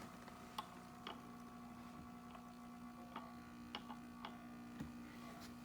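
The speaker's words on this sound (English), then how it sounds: "You can hear the hum of the decoder." Faint, steady electrical hum from the DCC decoder inside an Intermountain ES44AC model locomotive, with soft irregular ticks and clicks from the running model scattered through the quiet drone.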